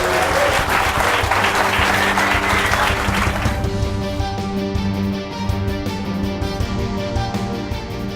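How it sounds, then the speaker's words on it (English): Audience applause for a startup pitch on a web series, loud dense clapping for about three and a half seconds that then gives way to a steady musical tone bed. "Let's have a round of applause for TechMap."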